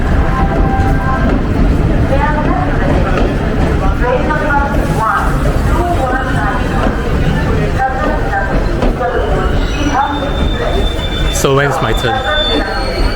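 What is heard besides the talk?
train moving at station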